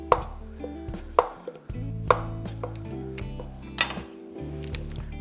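A knife cuts butter into small pieces on a board, giving a few separate dull knocks spaced about a second apart over a low background hum.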